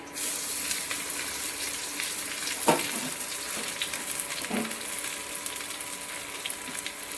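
Chopped onion frying in hot oil with sugar, bay leaf, green chilli and cardamom: a steady hissing sizzle throughout, broken by a couple of sharp clicks of a spoon against the pan, with no voices.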